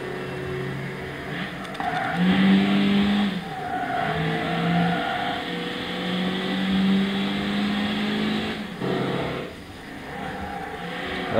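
Engine of a Toyota Will VS with a 1.8-litre 16-valve motor in Gran Turismo 6 on the Andalusia track, droning and rising in pitch through long gears, with brief drops at gear changes and a steady, close tone.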